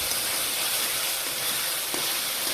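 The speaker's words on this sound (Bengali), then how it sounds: "ভালো করে কষিয়ে নিচ্ছি।" A spice paste of ground cumin and coriander with tomato, chili and ginger pastes fries in a pan for a small hilsa fish curry, producing a constant loud, close hissing sizzle.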